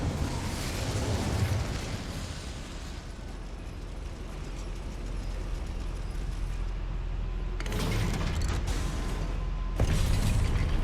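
Incendio fire spell cast inside a goblin mine in Hogwarts Legacy, a loud roaring fiery burst with sustained crackling rumble, flaring again in sharp bright surges near the end, with no talk.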